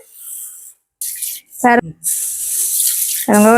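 Tap water runs and splashes into a bowl as mung beans are rinsed, coming in loud bursts with short pauses between them, and someone speaks briefly over the flow.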